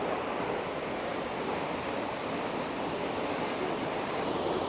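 Athirapally waterfall in Kerala gives a steady, broad rushing roar, unbroken and fairly distant, with no talk.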